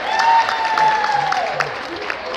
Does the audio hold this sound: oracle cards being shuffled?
no